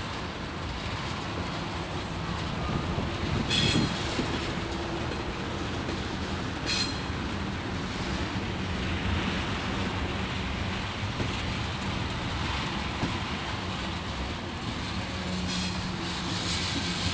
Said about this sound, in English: It's like this thing is slowing to a stop.